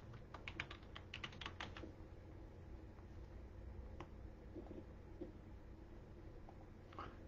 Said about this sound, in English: I'm typing in a website.